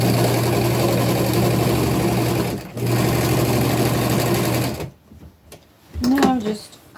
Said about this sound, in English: we're going to go up, tuck it under, and just sew it in place